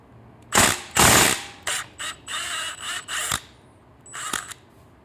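Ratchet with a 16mm socket turning a nut during a Triumph Street motorcycle exhaust install, several short crisp clicking bursts close by, separated by brief pauses.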